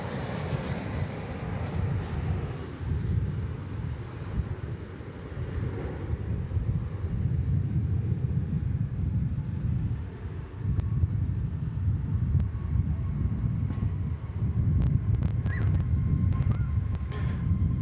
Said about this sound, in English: You just saw American Flight 2655 coming in from Portland in Airbus A321.